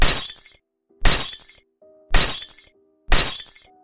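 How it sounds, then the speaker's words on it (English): Four loud crash-and-shatter bursts of breaking glass, each about half a second, spaced roughly a second apart with brief tinkling tails and quiet gaps between, no voices. "suddenly there was a very loud crash and the sound of tinkling glass from the hallway"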